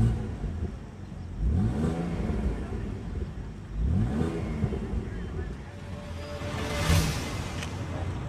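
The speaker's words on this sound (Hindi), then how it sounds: "एग्जॉस्ट नोट हल्का सा सुना रहा हूँ, बहुत ज़्यादा लाउड नहीं है क्योंकि स्टॉक एग्जॉस्ट है, बट स्टिल आवाज़ है इसमें क्योंकि ये V6 इंजन है।" BMW sports car with a V6 engine and stock exhaust, idling then revved twice in short rising bursts, with a fainter third blip, moderately loud and close, no speech.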